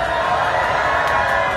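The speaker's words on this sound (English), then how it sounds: "You are now cheering wildly." At a life-size Mousetrap game at Maker Faire in San Mateo, a crowd cheers loudly and steadily, a dense wash of many voices throughout.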